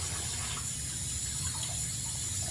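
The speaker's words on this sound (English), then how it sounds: "So we're just continuing to rinse it. You can look in the sink and see the water is clear." Tap water runs steadily into a sink while units are rinsed, a constant close rushing flow with no pauses or talk.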